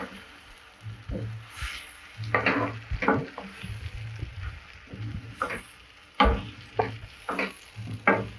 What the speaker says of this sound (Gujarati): ધીમા તાપે આપણે આને ચલાવવાનું છે.